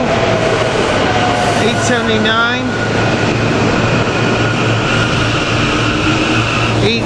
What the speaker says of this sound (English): This is a link belt train with Silverliner 5 rail cars 881